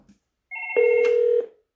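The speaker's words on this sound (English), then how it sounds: "So I'll give you an example here by just calling an extension." A Fanvil XU series VoIP desk phone calls an extension: a steady electronic tone begins, then one sustained ringback-style tone holds for about half a second before cutting off, heard clearly and alone.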